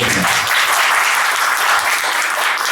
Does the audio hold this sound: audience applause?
yes